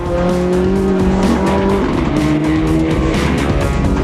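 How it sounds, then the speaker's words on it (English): A Mitsubishi Evo rally car races at the Lurgan Park Rally, its engine roaring loud and close through gear changes with squealing tyres, a continuous high-revving blare. "Damien Cole and Martin Brady bring their Get Connected Evo home third to make it an all-Mitsubishi affair"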